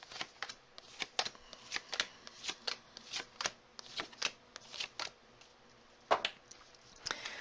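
Tarot cards being shuffled in quick, repeated riffling bursts, a crisp papery flutter close by with no talking.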